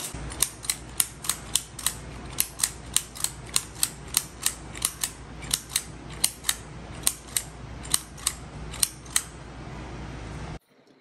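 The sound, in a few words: Penn State Adder clicker adding machine being clicked to clear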